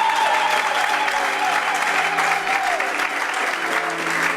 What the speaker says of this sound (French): On l'acclame pour sa présence.